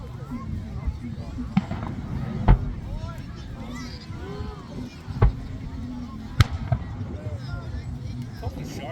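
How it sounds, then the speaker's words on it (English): July 4th fireworks bursting outdoors, several sharp booming explosions spaced a few seconds apart over crowd murmur and nearby voices. "Fireworks."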